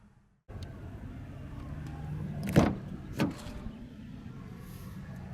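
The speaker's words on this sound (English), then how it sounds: "just pull this lever up and the seat will go just like that" Power seat in a 2016 Infiniti QX80 Limited moving after a lever is pulled: a steady motor whir with two brief thunks or clicks partway through, close and moderately loud, no talk.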